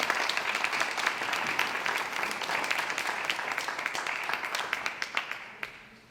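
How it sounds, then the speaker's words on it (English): Applause from the audience at a book festival award ceremony, a dense sustained clapping that thins out toward the end, with no voices over it. "So let's give them a round of applause for that."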